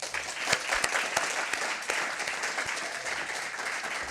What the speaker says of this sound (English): I'd like to ask you to give a round of applause for Darren